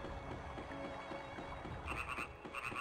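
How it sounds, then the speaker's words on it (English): Frogs croak in the Grandia video game, a steady layered chorus of throaty calls with a brighter, chirpier group joining near the end, set over quiet in-game ambience with no talking. "I don't know why the frogs are around."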